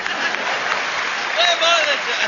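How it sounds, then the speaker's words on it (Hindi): Brief burst of audience applause at a Hindi-language comedy or speaking event, steady dense clapping from a crowd, fairly loud and close, lasting only a couple of seconds. "इधर से तालियां कम बज रही हैं, इधर का मामला ठीक है।"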